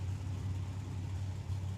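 Older Chevrolet drag cars idle at the start line of Tucson Dragway, a deep steady engine rumble that holds continuously and loudly throughout with no talk.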